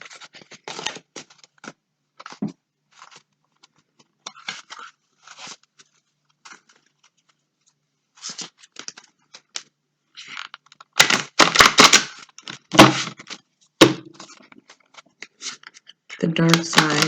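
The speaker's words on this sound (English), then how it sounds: "I'm gonna give it one more shuffle." A deck of playing cards is shuffled in sparse, crisp bursts of riffling and scraping close by, then a louder, busier run of shuffling later on, with brief gaps of near silence between.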